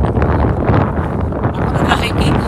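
Strong gusting wind buffeting the microphone while cycling uphill through a small Alberta town, a loud continuous rumbling roar with a voice speaking faintly beneath it.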